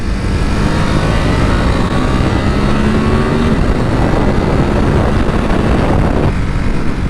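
A 2021 Ducati Supersport 950 S is ridden on a public road, a loud continuous engine drone mixed with heavy wind rush and a gear-change dip near the end, with no talking.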